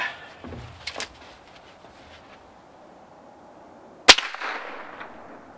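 A break-barrel air rifle firing a Gamo Platinum .22 pellet gives a single sharp, loud crack near the end, with a few fainter mechanical clicks and handling noises before it.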